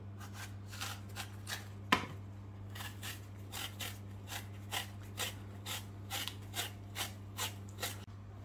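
Apples are peeled with a vegetable peeler in a home kitchen, giving a series of short, regular scraping strokes over a low steady hum, close and fairly quiet, with one sharper tap early on.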